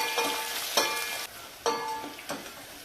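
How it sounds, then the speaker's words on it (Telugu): Tempering of spices frying in a pan for dal, a steady close sizzle with crackling bursts and stirring scrapes at a few points, no talking. "చూడండి తాలింపు మనం వేసిన తిరగమాత ఎంత బాగుందో. ఇవన్నీ బాగా వేగాలి."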